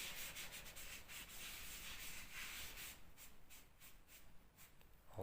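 Sandpaper rubs over dried, durable washable paint on a repaired ceiling crack, a steady close scratching of repeated back-and-forth strokes with no talking.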